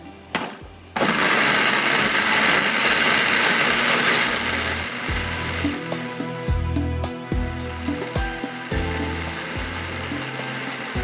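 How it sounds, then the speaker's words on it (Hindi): After a short pause, a blender starts up and grinds onions loudly and continuously, its motor pulsing and rattling as the contents churn. "इसको मैं अब ब्लेंडर को पीस लेती हूँ इसके अंदर,"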